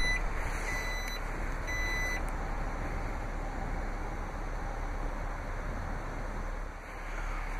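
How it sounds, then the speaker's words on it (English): Power liftgate of a 2015 Jeep Grand Cherokee Limited closing, with a few high warning beeps early on over a steady motor whir and background hiss, fairly close. "To close the liftgate, just locate the liftgate power hatch."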